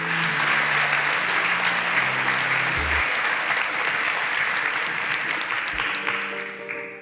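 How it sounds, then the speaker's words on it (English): Sustained applause from a studio audience as contestants leave the stage on a quiz show, dense and steady throughout with music playing underneath, tapering slightly at the end. "Please, a round of applause for them as they exit the stage."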